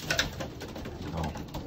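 A 19-year-old racing pigeon coos softly up close in a loft, producing a few low, throaty murmurs at a quiet level.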